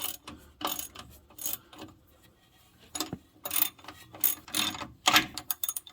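A hand ratchet snugs down shock absorber bolts on a Chevy S10 in a home garage, rapid clicking bursts repeating in short strokes with brief pauses, close and fairly loud with no talking.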